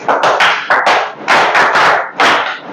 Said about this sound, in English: Can we give like a power clap?